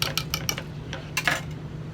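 Spoon clinking and scraping in a bowl while a Lithuanian kugelis mixture is stirred, quick light metallic taps in an uneven rhythm, close and moderately quiet over a low steady hum.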